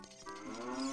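A cow in Ocarina of Time lets out a single short, clear moo. It is close and fairly quiet, with no talking.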